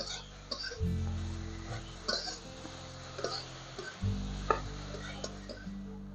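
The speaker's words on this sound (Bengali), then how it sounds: "এখন ঘিটা গরম হয়ে গেছে এবার আমি গাজরগুলো ওর মধ্যে দিয়ে দিচ্ছি গাজরগুলোকে একটু নাড়াচাড়া করে ভেজে নিতে হবে" Carrots are stirred and fried in hot ghee in a pan. A spoon scrapes and clinks in short, irregular strokes over a soft sizzle, with a person talking throughout.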